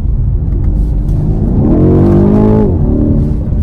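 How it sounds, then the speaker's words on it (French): A car engine in sport mode rumbles loudly up close on winding roads, then revs sharply upward with a rising whine before dropping back to a lower steady growl. "regardez à quel point ce moteur reprend vite. C'est impressionnant. Zéro lag, un joli bruit."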